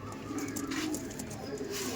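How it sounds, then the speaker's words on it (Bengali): An Andhra pigeon coos in a short, soft, throaty burst close by, with faint voices in the background. "পিলাঙ্কা পায়রা"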